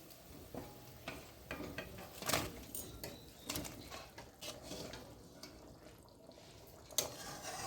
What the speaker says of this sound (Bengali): এখন আমি এই যে ভেজে রাখা মাছগুলো দিয়ে দিচ্ছি